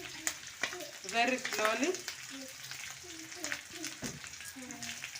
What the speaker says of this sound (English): So our omena is golden brown and is well dried and well fried.